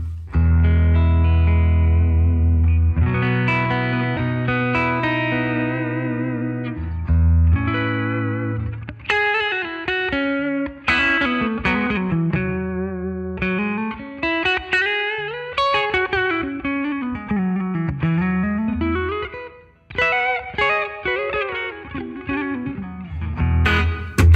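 An electric guitar through a NUX MG30 amp modeler with IR, EQ and reverb, played with a mostly clean tone, sustained chords and melodic bends ringing out, loud and close with no talking.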